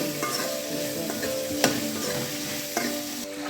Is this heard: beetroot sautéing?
yes